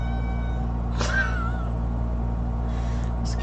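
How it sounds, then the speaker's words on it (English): A cat named Milton gives a single short meow, close and fairly clear over a steady low hum, and a few faint soft noises follow. "This cat, dude."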